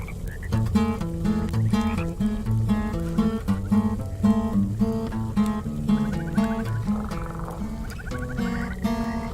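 Frogs croak in the video game Mortal Shell within dense, tonal game audio, with rhythmic croaking and musical layers running steadily and loudly throughout.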